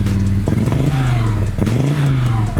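A rebuilt Audi Quattro engine idles and revs close by with a slight misfire, its uneven note rising and dipping through a couple of short blips.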